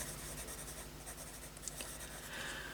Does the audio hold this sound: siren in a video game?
no